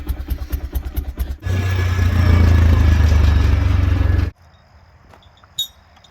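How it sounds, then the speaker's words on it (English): A four-wheeler ATV engine works hard at steady high load while towing a vintage Ford car, a loud continuous rumble lasting about three seconds. Softer idling pulses come before it, and a quiet lull with a brief knock follows. "this four-wheeler has enough gumption to pull the car back"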